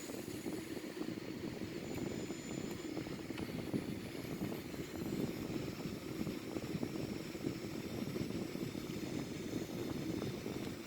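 Both engines of a Boeing 787-900 in a flight simulator game, idling before takeoff, give a continuous broad jet drone at a steady, moderate level, with no voices.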